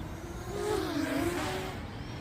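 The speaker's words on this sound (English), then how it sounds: "this quadcopter can pick up some speed" XK X251 Whirlwind quadcopter flying fast outdoors, a steady whining rotor drone that swells briefly in pitch and loudness mid-pass before easing off, with no talk over it.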